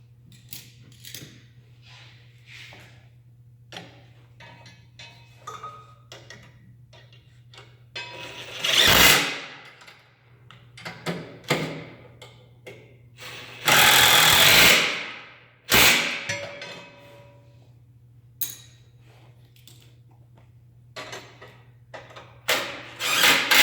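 Bolts on a block-off plate for a Ferris IS700Z-series zero-turn mower are tightened with a 9/16 socket and wrench: scattered close clicks and taps, plus two loud rasping bursts, with no talk.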